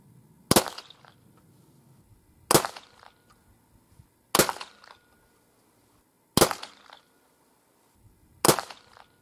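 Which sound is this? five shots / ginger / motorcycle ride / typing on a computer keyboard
five shots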